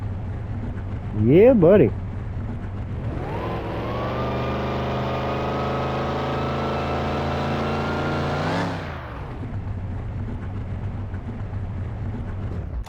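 Supercharged Camaro engine from a junkyard build in Car Mechanic Simulator 2021 cranks, fires and settles into a steady loud idle, then cuts off; someone speaks briefly just before it starts.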